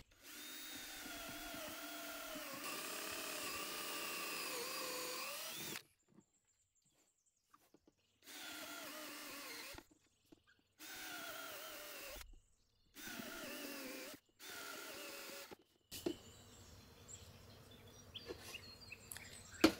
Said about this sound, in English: Drill a hole, repeat, and keep drilling holes.